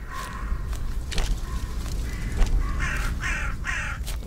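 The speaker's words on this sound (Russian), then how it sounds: "Вороны тут еще эти раскаркались" Crows in the video game We Harvest Shadows caw repeatedly over an ambient background bed, several harsh calls that bunch toward the end, moderately loud.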